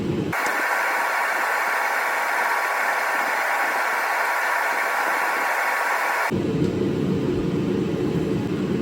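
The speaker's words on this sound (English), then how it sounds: "just out here, welding titanium" Steady, loud hiss of a TIG welding arc joining titanium pie cuts on a Shelby, holding unbroken for about six seconds before cutting off to a quieter shop hum.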